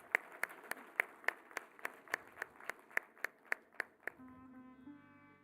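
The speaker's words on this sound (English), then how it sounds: "let's have a round of applause for our esteemed dignitaries" Sparse audience clapping for dignitaries at a regional dialogue on social justice, about a dozen evenly spaced claps over four seconds, then a short sustained tone as it ends.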